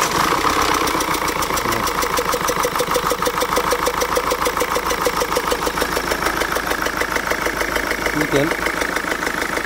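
A Peugeot Citroën HDi diesel engine cranks and fires up, then settles into a steady, loud idle with a rough mechanical clatter throughout, close by.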